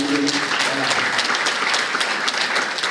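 Loud, close applause from a conference audience, dense rapid clapping sustained throughout with a brief voice near the start.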